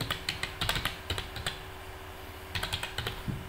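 Code being typed on a computer keyboard while building an AI assistant program, heard as close, rapid bursts of key clicks in two clusters separated by a brief pause, with no talking.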